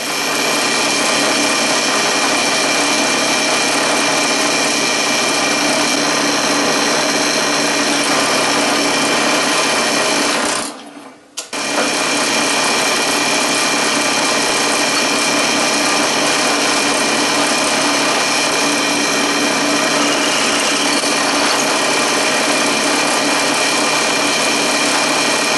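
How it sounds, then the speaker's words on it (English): A power drill whines loudly and continuously, stopping briefly for a moment before starting up again and running steadily to the end. "As you can see, drilling those holes,"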